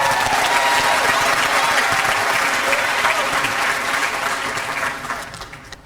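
A graduation audience at a high school commencement applauds the class president, with loud sustained clapping that thins out and fades near the end.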